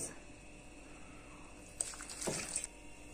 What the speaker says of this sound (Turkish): Şimdi sütümüzü döküyoruz.